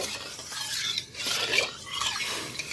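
Rice flour being mixed and kneaded into salted water by hand for dough, a soft wet scraping and rubbing in uneven strokes, fairly close, with no talk.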